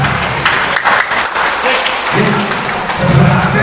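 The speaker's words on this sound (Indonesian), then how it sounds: "Ayo tepuk tangan dulu untuk kita semua." An audience at a village meeting applauds, a dense, steady wash of many hands clapping close by for several seconds, with voices faintly mixed in beneath it.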